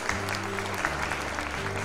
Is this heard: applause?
yes